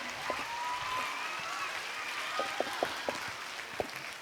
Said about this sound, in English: Please give them a huge round of applause for their wonderful work.